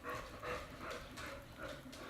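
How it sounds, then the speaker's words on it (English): A pet dog named Audrey vocalizes in a store, making a string of soft, close whining yips and grumbles that rise and fall in short bursts. "my dog Audrey, but sharing her vocalizations with us"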